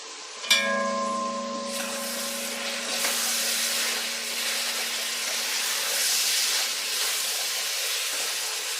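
Onions and garlic with seasoning fry and get stirred in a pan for a homemade chicken dish, a steady close hiss after a sharp metallic clink that rings on briefly at the start.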